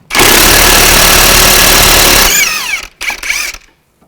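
Impact wrench whirring loudly to remove a nut from a strut link on a 2005-2010 Chevy Cobalt, a sustained mechanical burst of about two seconds followed by short winding-down spurts.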